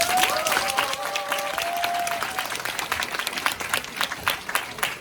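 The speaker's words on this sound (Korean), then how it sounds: "다시 한번 뜨거운 박수 부탁드립니다" Audience applause after a lecture, steady dense clapping from a seated crowd throughout, with a brief whistle or cheer near the start.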